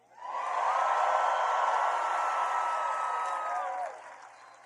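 A large political rally crowd in Kinston, North Carolina, breaks into a sustained, dense roar of cheering and shouting that holds steady for several seconds before dropping off sharply.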